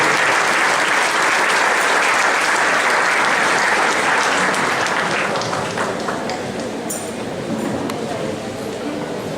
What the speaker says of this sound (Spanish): Yo les invito a que les recibamos con un aplauso